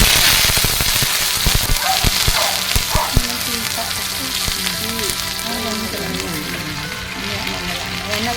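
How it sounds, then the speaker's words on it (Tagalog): Boneless bangus (milkfish) sizzles steadily on a grill for a New Year's Eve meal, with sharp pops and crackles over a constant broadband hiss, while people talk in the background. "Naka-ready na ang ating ihawin na boneless bangos. Guys, mag-iihaw na tayo."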